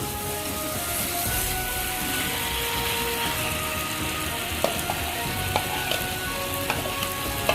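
Pre-fried jackfruit hitting a hot pan of Gobindobhog rice and spices, a loud steady sizzle and crackle close up with occasional small clinks of stirring.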